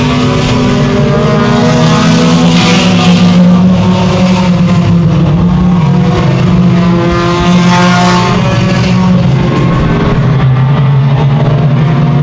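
Sport compact and Thunder Stock cars race at Evans Mills Raceway Park, a steady, loud, layered engine drone with rising and falling revs as the field circles the dirt track, no voices over it.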